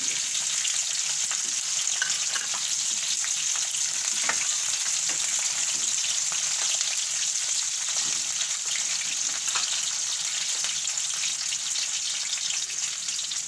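Capsicum frying in a pan for a methi marcha shaak, giving a steady, loud, close sizzle that holds evenly throughout with faint stirring ticks and no talk.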